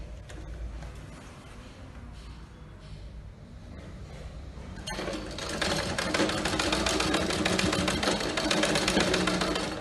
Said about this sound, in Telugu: కరెక్ట్గా కింద అంచు కుడుతున్నాం